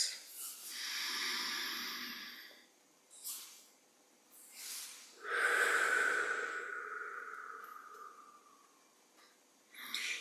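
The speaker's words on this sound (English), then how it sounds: "2 deep breaths in through the nose and out through the mouth" Slow, deep breathing, air drawn in through the nose and let out through the mouth, heard as long airy hisses close to the listener, with one extended exhale fading gradually before a fresh intake.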